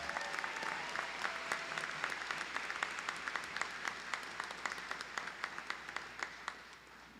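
Audience applause at an evening university commencement ceremony, a steady wash of many hands clapping with sharp individual claps standing out, sustained evenly throughout without speech.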